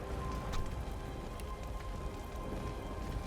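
A rain spell in the video game Divinity Original Sin 2 pours down as steady, even rainfall pattering on surfaces, with a few sharper drops standing out in a constant hiss.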